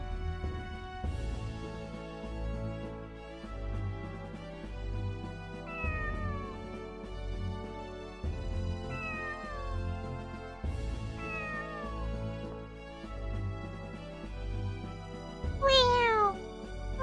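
A single cat meows repeatedly in clear, close calls, each cry rising and falling, spaced every couple of seconds over a steady music-like background, with a longer, sharper wail near the end.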